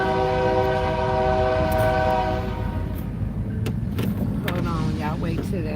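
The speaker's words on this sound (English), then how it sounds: "Hold on, y'all wait till that loud ass train go by." A loud train rolls past close by, its horn sounding in long sustained tones at first while heavy rumbling and wheel clatter continue throughout; no one speaks over it.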